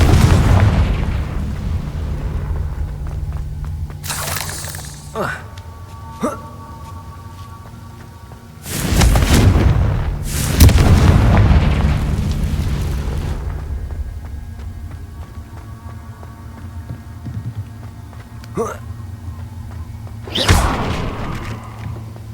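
Fiery spell explosions go off in the Hogwarts Legacy video game, several heavy booming blasts with deep rumbling tails spread unevenly across the stretch, separated by quieter ambient game sound and no talking.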